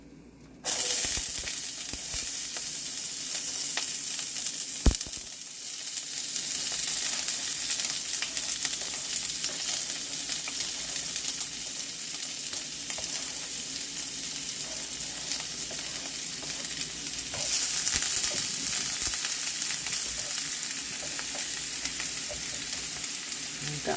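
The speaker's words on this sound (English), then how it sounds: "Let's go ahead and put our onions in here." Onions dropped into a hot soup pot begin sautéing at once, a loud steady frying hiss that holds for the whole stretch with a few small clinks, no talk.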